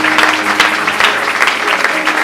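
A church congregation at a Sunday worship service applauding together, a loud dense burst of clapping that fills the whole room and holds steady throughout.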